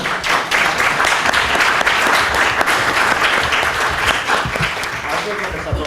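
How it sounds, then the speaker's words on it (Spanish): At a juvenile justice event, the crowd gives loud, sustained applause for the panelists, dense clapping from many hands with possible faint voices mixed in. "Va a darle un aplauso a los panelistas"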